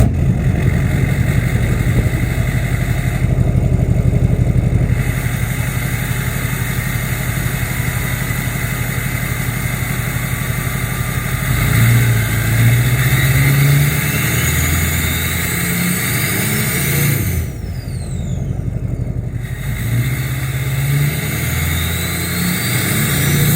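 A Duramax diesel truck engine with an MBRP 5-inch exhaust idles loudly and steadily, its deep rumble continuous throughout with a slight rise in revs partway.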